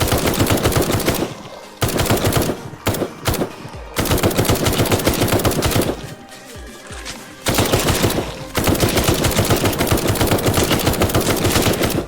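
Rapid automatic gunfire from the Night of the Dead zombie survival game, loud and sustained in long bursts with a few brief pauses between volleys, no talking over it.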